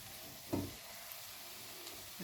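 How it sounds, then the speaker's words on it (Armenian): An egg fries quietly in a pan, a soft, steady sizzle with a couple of faint clinks or stirs, close and low in level. "Տեսնում եք արդեն մեջին լավ տապակվեց ձուն, ծվածեղի նման"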